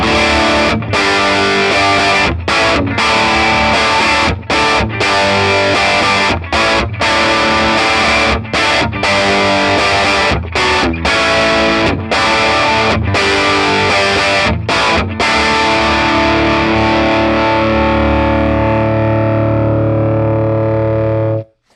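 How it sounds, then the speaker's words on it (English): An electric guitar heavily distorted through a Bearfoot Emerald Green Distortion Machine pedal chugs through rhythmic power chords with brief stops, ending on a long sustained chord that fades away. Loud, no voices. "Now the Emerald Green Distortion."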